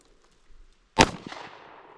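A single sharp pistol shot cracks at a shooting range, followed by a brief ringing decay and a faint echo.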